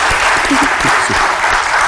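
Steady, dense audience applause fills the room as a crowd cheers on a young girl about to sing an Egyptian song at a family gathering, loud and continuous with faint voices mixed in.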